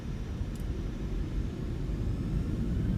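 Boeing 737 jet engines spool up for takeoff in Microsoft Flight Simulator, a steady, loud, dense roar with a constant rumbling hiss throughout and no voices.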